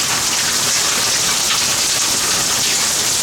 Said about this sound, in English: And some heavy rain.